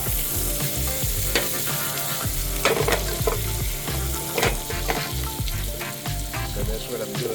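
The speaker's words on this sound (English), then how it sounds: "I want my asparagus to be somewhat fried" Asparagus frying in a pan, a steady loud sizzle with stirring scrapes and occasional clinks, with low background music or hum throughout and no talking.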